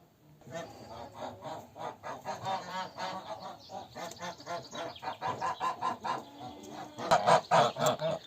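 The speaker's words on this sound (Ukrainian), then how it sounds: "Гуси мене переслідують." Geese honk repeatedly at close range in a farmyard near feeding time, a busy, overlapping flurry of nasal calls that grows louder and more insistent toward the end.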